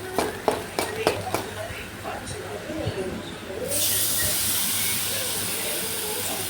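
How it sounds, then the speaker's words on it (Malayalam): Tamarind water splashes into hot frying masala for an inji puli dish, opening with a few sharp clicks and scrapes before a loud, steady hiss and sizzle takes over and holds to the end. "നന്നായി ഒന്നതൊന്ന് മൂത്ത് വരുമ്പോഴേക്കും നമുക്ക് പുളിവെള്ളം ഒഴിച്ചു കൊടുക്കണം"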